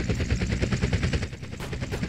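Rapid automatic gunfire in GTA San Andreas, a dense continuous burst of shots aimed at a helicopter, loud and close with no talk over it.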